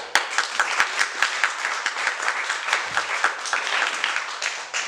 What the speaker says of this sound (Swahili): Wewe una Biblia, jipigie makofi.